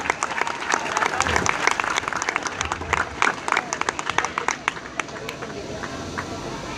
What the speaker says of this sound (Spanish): quiero también pedir un aplauso bien fuerte para ese equipo de Acuaviva